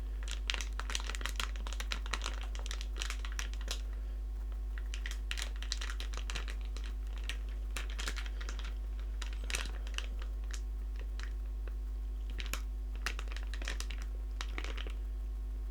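A chocolate bar wrapper crinkled close up in soft-spoken ASMR, with irregular sharp crackles and rustles scattered over a quiet background hum, no talking.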